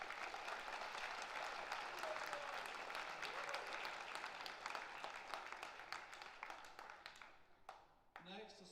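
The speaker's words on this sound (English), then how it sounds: "Let's give our district leaders a round of applause." Faint, distant applause fills a 2025 high school graduation ceremony for Scriber Lake, steady crowd clapping that tapers off toward the end, where a few louder sounds break through.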